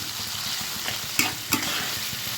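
Freshwater snails (gugli) frying in a pan, a continuous sizzle with two sharper scraping clicks as they are stirred.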